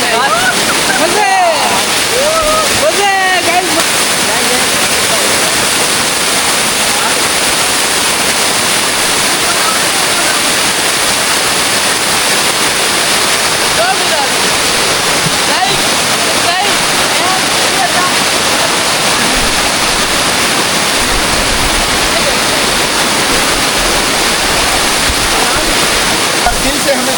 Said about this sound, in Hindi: कितनी खूबसूरती के साथ देखें पानी नीचे बह रहा है।